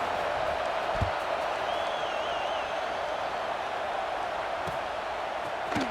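A football stadium crowd at a Miami versus Tennessee game produces a dense, steady roar that fills the space, with a few faint thumps and whistles rising out of the wash.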